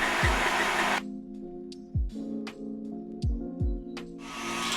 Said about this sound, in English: you're going to need some sort of a power mixer to mix this up.